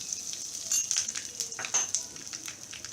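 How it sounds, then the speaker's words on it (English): Cumin seeds spluttering in hot oil for an okra dish, a bright crackling sizzle with quick popping bursts, close and continuous for a few seconds. "Once this starts to splutter, we will add in our cumin seeds or jeera."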